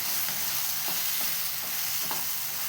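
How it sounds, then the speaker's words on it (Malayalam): Ripe banana pieces sauté in a pan, giving a steady close sizzle with soft scraping strokes of a spoon every second or so, and no voices. "അപ്പോൾ ഇതങ്ങനെ വഴന്ന് വരട്ടെ"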